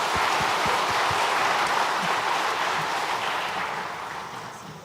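A church congregation at a Sunday service applauds to encourage departing members, producing a dense, loud burst of clapping that fills the room and slowly fades toward the end.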